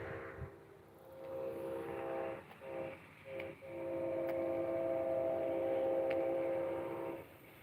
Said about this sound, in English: That sounds like Amtrak.